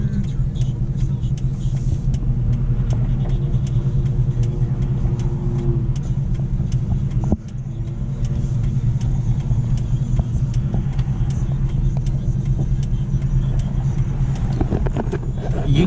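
A Ford Mustang GT with its check engine light on, heard from inside while cruising: a steady, deep engine rumble and road drone that holds evenly throughout, with one brief dip partway.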